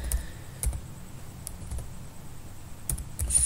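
A command is typed on a computer keyboard into a Kali Linux terminal, with scattered close key clicks arriving in small irregular bursts against a quiet background.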